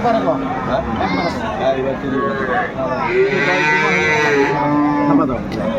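Dairy cows and calves mooing repeatedly, several long lowing calls close by, mixed with people talking at a busy outdoor cattle market in Aftabganj, Dinajpur.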